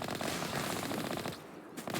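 Enemy gunfire in the Mass Effect video game crackles in rapid automatic bursts, fairly faint and steady, then briefly drops away before resuming.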